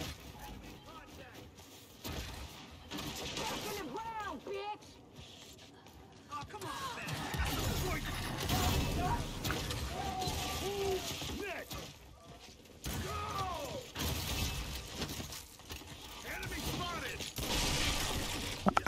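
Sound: gunfire from the video game Gears of War 5

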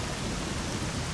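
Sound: rain in a video game

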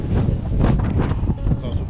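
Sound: wind blowing by the sea

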